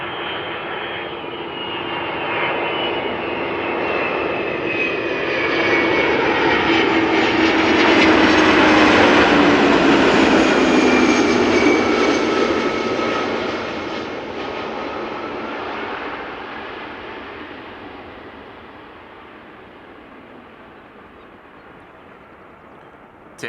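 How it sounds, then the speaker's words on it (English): A DHL Airbus A300 cargo jet arrives at Amsterdam Schiphol airport, its engine roar swelling loudly as it passes close overhead on landing approach, then gradually fading while it continues toward touchdown. "it is a DHL Airbus A300. She's coming in from London Heathrow."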